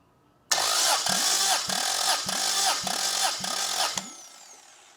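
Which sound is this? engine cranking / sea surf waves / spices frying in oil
engine cranking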